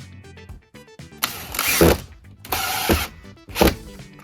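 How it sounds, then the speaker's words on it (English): A screw being driven to fasten a board at a basement entry, heard as several bursts of powered driving, each about half a second to a second long, with short pauses and clunks between them, close and fairly loud. "Gonna get a couple of screws here and get this fastened on."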